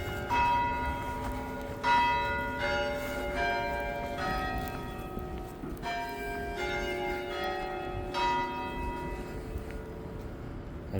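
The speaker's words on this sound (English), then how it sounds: "There's the Westminster Abbey melody on St. George's Church, St. George's Cathedral" Church bells at St. George's Cathedral in snowy downtown Montreal ring out the Westminster chime melody, struck notes ringing and overlapping at a moderate distance over soft city background noise.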